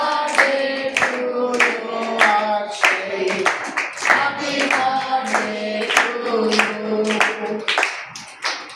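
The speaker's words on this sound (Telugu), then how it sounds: "ఇది వెలిగినప్పుడు చప్పట్లు బట్టి హ్యాపీ బర్త్డే పాడండి." Rhythmic hand clapping by a group at a birthday celebration, steady and close, with singing voices mixed in over the claps.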